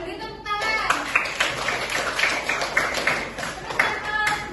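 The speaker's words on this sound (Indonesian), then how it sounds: "Beri tepuk tangan." Children in a classroom clap together in a rhythmic patterned beat, a series of sharp, evenly spaced bursts of many small hands, fairly close, with voices mixed in.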